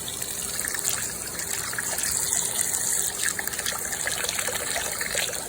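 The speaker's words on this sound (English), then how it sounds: "Wash the bowl out with some hot water." Steady running hot water trickles and splashes continuously, rinsing out a bowl under a tap, fairly close with no talking.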